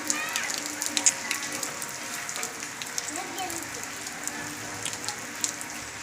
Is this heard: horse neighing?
no